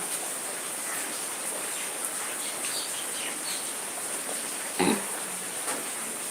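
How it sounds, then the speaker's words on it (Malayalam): Steady hiss of falling rain fills the scene, with a single louder knock near the end and no voices. "ഞാനിപ്പോൾ മഴയത്ത് ഇവിടെ ഇങ്ങനെ വന്നിരുന്നപ്പോൾ ചുമ്മാ ഒന്ന് ലൈവ് ഇട്ടതാ"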